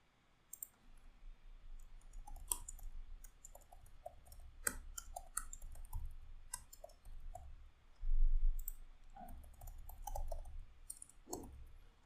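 Sparse, quiet mouse clicks scattered at an uneven pace while a new lead record is created in a CRM, with short gaps and a few grouped clicks against a faint background hum.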